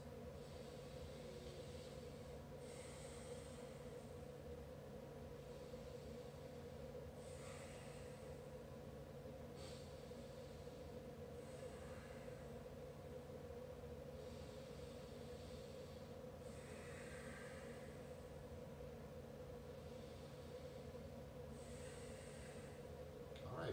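Slow, deep breaths held through a hip stretch in a hip flexibility workout, each breath a soft airy rush repeating every few seconds over a steady low background hum, with no talking.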